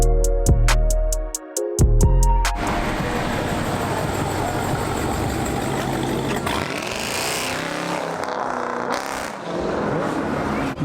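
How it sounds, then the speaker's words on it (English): A Trackhawk launches hard at a street car meet by a graffiti wall in Houston. A few short tonal blasts come first, then a loud, sustained engine roar that slowly fades, with crowd noise in the background. "that Trackhawk that just launched"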